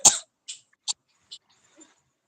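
A woman gives one strong, harsh cough, then four smaller dry coughs or throat clears spaced out over a couple of seconds, each short and close, with silence between.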